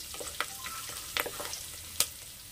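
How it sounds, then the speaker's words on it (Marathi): Plenty of curry leaves sautéed in hot oil for a field-bean pulao, crackling with scattered sharp pops and a few louder spits over a low, steady background sizzle, close by with no talk. "भरपूर अशी कढीपत्त्याची पानं घ्यायची आणि ती घालायची पुलावमध्ये. परतून घ्यायचं चांगलं."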